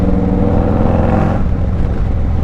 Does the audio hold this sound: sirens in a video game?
no